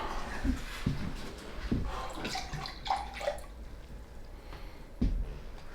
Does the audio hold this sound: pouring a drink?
yes